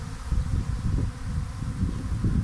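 A honeybee swarm in flight fills the air with a dense, continuous low drone of many bees buzzing around at once, steady and fairly loud throughout.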